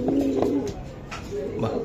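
Low, soft cooing from racing pigeons in a couple of murmuring bursts, close by, with faint background noise and some indistinct voice-like sound mixed in.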